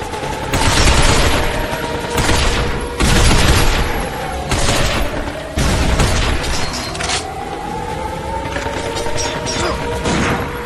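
Heavy gunfire from shooting robots in Binary Domain, loud bursts of automatic fire and impacts repeating in waves across the whole stretch, with crashing and metallic smashing mixed in.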